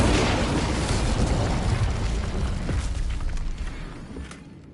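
Incendio fire spell cast in Hogwarts Legacy on PS4, a loud roaring burst that fills the start and slowly fades away over several seconds, with no talking.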